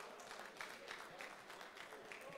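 Soft, steady applause at a trotting awards ceremony, a continuous patter of many hands heard somewhat distantly and quietly.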